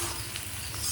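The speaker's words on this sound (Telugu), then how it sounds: "ఈ ఉల్లిపాయలు వేగుతున్నాయి." Chopped onions sizzle in hot oil in a pan while a potato upma tempering is cooked, giving a close, steady, dense frying hiss that runs unbroken for the whole second.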